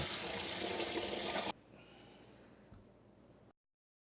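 Tap water pours loudly into a kitchen sink for about a second and a half, then cuts off, leaving faint drips and quiet room noise before silence.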